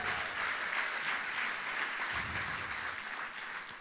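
A studio audience at a talk show breaks into steady, sustained applause, a dense wash of clapping hands that holds evenly for a few seconds at moderate level with no voices over it.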